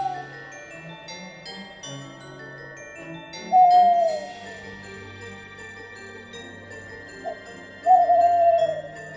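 Two soft, sliding hoots from a bird in a video game, spaced several seconds apart, over a steady tonal music-like background.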